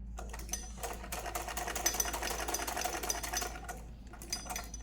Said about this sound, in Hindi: ये मैं थोड़ी सी 1 फुट से ज़्यादा की सिलाई दे रही हूँ